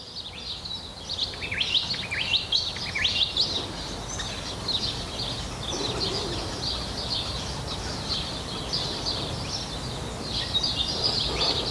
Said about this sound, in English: The birds sound pretty though, don't they?